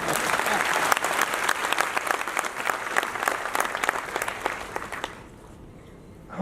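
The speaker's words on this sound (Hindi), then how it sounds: "थोड़ी कम थी तालियां।" Audience applause at a Chief Minister's education excellence award ceremony, a dense burst of many hands clapping loudly that fades quickly near the end, with faint voices underneath.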